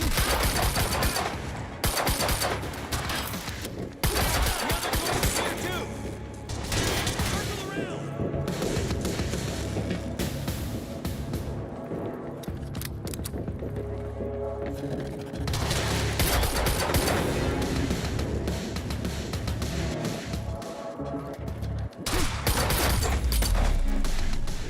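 Gunfire in the video game Quantum Break: dense, sustained bursts of automatic weapon fire and rapid shots throughout, loud and close, with brief lulls and shouted voices mixed in.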